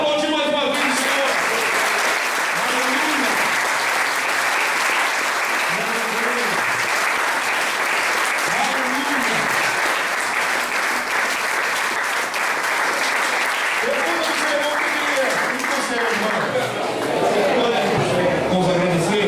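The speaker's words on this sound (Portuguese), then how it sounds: "Agora aplaudir mais uma vez o Senhor." A church congregation applauds loudly and steadily for nearly twenty seconds, with a sung or spoken voice rising and falling over the clapping.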